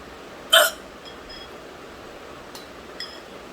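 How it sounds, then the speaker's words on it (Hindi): A woman's hiccup, one sharp close gulping burst near the start, followed by a fainter second hiccup about two and a half seconds later over quiet room tone. "बहुत हिचकी आ रही है गाइस।"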